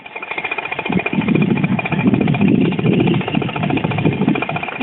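A 130cc Virus paramotor engine, recently rebuilt with a new jug, piston and rings, runs close and loud with a rapid, buzzing two-stroke chatter, steady after a brief start-up, with no voices.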